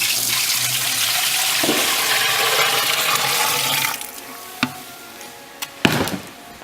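Water is poured in while brewing a home beer kit, a steady splashing flow that fills for a few seconds before giving way to a few sharp knocks and clunks.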